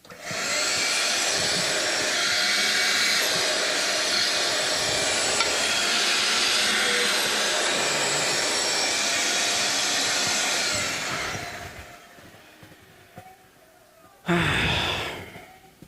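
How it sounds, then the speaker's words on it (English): Vacuum cleaner clearing debris from a Martin HD-28 guitar fingerboard during planing in a reconstruction; a loud, steady roaring whine runs for about eleven seconds, cuts off, then a brief burst returns near the end. "Let's vacuum it."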